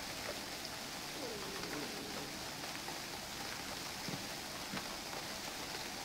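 Steady rain falls in the UnReal World video game as a dense, even hiss, with a few faint drips and soft chirps over the wash.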